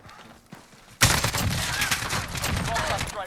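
An RPK light machine gun firing in Call of Duty Modern Warfare: after a quiet, faint lead-in, a sudden loud sustained burst erupts and rattles on continuously to the end, close and dense with rapid shots.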